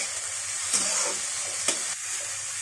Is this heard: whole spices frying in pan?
yes